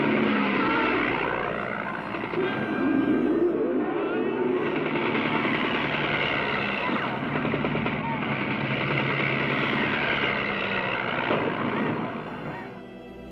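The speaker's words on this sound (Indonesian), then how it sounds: "tiba-tiba pesawat tempur Turki melalui mereka dan melakukan serangan" Turkish fighter planes in the 1962 desert film Lawrence of Arabia pass overhead as a sustained broad roaring aircraft drone, swelling and easing across the scene while voices speak over it.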